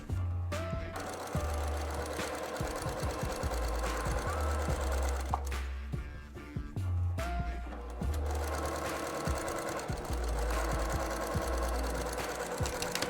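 A sewing machine stitches through border-print fabric along a marked seam line at a mitered corner. Its needle chatters in quick rhythmic runs with brief pauses between bursts, close and steady, with no voices.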